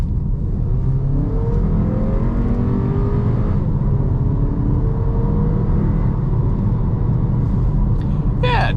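A 2024 Audi Q3 S Line 45 TFSI with 228 horsepower pulls hard from about 25 mph, its engine note climbing steadily as a loud, continuous rumble heard from inside the cabin throughout.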